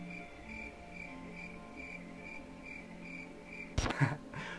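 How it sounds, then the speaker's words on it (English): Crickets chirp in a steady, pulsing rhythm against a quiet background, broken near the end by a brief loud rustle or bump. "Lydia, this is where you can, like, insert, like, a crickets sound effect."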